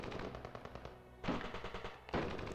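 Rapid bursts of automatic gunfire in a survival video game, fired at a wild boar: a long rattling volley, a brief pause, then two more short bursts, loud and close.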